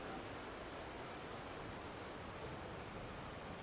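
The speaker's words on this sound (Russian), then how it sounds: "как вода течет тут" A cold mountain river flows along the pass road between Khujand and Dushanbe in Tajikistan. Its broad, even rushing is steady and fairly faint, with no voices.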